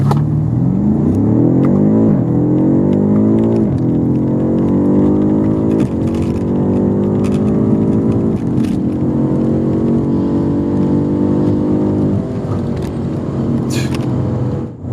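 A 617-hp 2020 BMW F90 M5 Competition launches hard from first gear, its engine roaring loud and close through a series of rising revs broken by quick upshifts about every two to three seconds.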